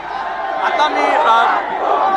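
A street crowd in Nagpur celebrates India's 2025 Champions Trophy win over New Zealand with loud, close, overlapping shouts and whoops that continue without a break.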